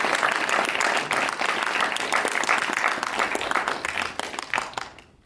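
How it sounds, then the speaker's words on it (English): An audience at a film premiere for Monster applauds in dense, loud, continuous clapping that fades out at the end. "could you please get a round of applause for them?"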